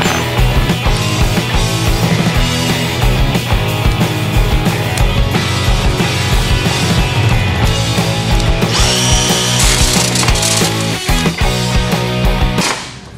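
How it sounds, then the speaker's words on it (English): A power drill whirs loudly and continuously, drilling holes for air line bulkhead fittings in a car, grinding through material with shifting pitch, close up and with no talking. "Now I can finish drilling out the holes for the airline bulkheads."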